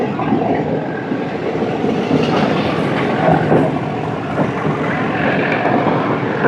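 A train rolls along the rails through forest near Coonoor with a continuous, loud, even rumble and rattle that never lets up.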